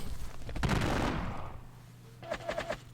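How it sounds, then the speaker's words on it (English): Musket volleys in the Napoleonic Battles wargame during the Battle of Montenotte: a long crackling fusillade swells loudly, fades, then a quicker burst of sharp shots returns near the end. "He's actually firing at us in column formation"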